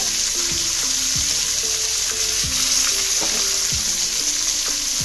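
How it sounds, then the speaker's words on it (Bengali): Onions frying with bay leaf in a wok sizzle loudly and steadily, broken by repeated scraping stirs of a spatula against the pan. "এই দেখো ফার্স্টে আমি তেজপাতা দিয়ে পেঁয়াজটাকে ভালো করে লাল লাল করে ভেজে নেব"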